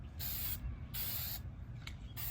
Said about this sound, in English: Just spray a little bit at a time